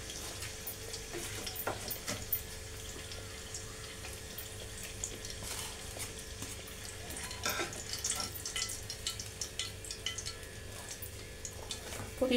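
Chicken burgers fry in hot oil with a soft, steady sizzle broken by occasional sharp pops and crackles, fairly faint throughout.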